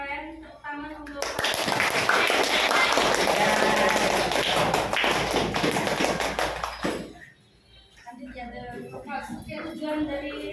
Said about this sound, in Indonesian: applause to your friend